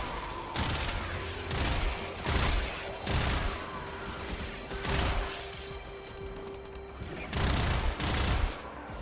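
Enemies firing guns in the sci-fi video game Warframe, repeated loud bursts of rapid gunfire separated by short gaps, with a steady electronic hum running underneath and no speech.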